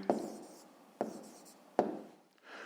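Three crisp pen strokes scrape on paper during a handwritten math exercise, each a short, close scratch that trails off, spaced about a second apart and quite faint.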